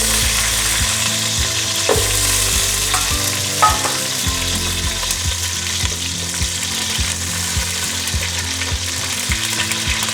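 Curry leaves and a chopped shallot mix fry in oil for a red snapper fish curry, a constant close sizzle broken by frequent scraping and tapping of a spoon against the pan.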